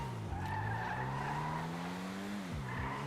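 Tires skid and squeal loudly in a video game as a car is driven, a sustained screech that bends in pitch and dips sharply twice near the end, with engine noise underneath.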